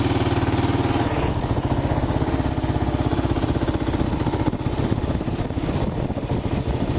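A Kawasaki KLR dual-sport motorcycle engine runs steadily and loudly up close, its low, even thumping pulse continuing throughout with no talk.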